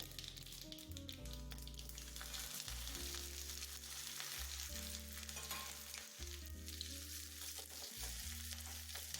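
Mustard seeds, chillies and garlic fry in hot oil with a dense, crackling sizzle that continues throughout, heard close under quiet background music.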